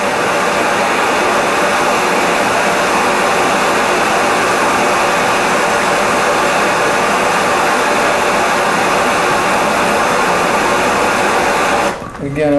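A heat gun roars steadily up close while warming a golf club shaft to extract it from the head, one continuous loud blowing hum that cuts off just before the end.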